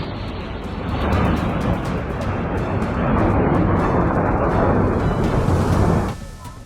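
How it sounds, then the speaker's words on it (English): Thunder from a lightning strike on a tree near a family's home: a loud, sustained rumbling roar that swells after the first second, holds for about five seconds, then cuts off abruptly. "Thankfully, the lightning struck the tree instead of the nearby family"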